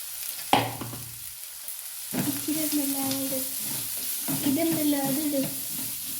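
Onion, green chili and curry leaves sautéing in a pan, with a sharp clatter at the start, then bursts of sizzling and stirring scrapes that come and go, a faint tone running beneath them.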